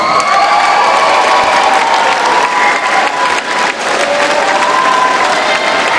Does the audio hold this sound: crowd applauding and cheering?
yes